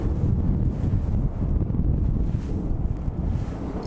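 Strong wind roars and buffets the microphone with a heavy, low rumble, gusting continuously throughout.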